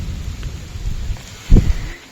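Rain falling near a shop awning where someone shelters during a run, a steady low patter with a sudden heavier burst.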